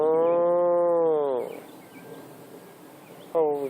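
Cows on open farmland give a long, loud, close moo, then a quieter stretch of outdoor ambience, and a second moo begins at the very end.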